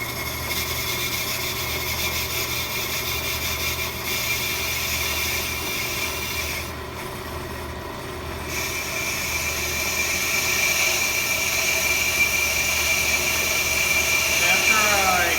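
A brake lathe turns and cuts a brake disc, a steady mechanical whine and hum that dips briefly partway through and then rises slightly louder, with speech faintly underneath.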